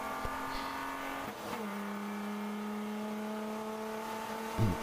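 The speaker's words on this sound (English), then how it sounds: "a little bit of wheel spin there as he goes back to power coming through that corner" A race car in a ChampCar endurance race at MSR Houston powers out of a corner, its engine note dipping then rising steadily with a brief tire chirp, heard at a moderate distance.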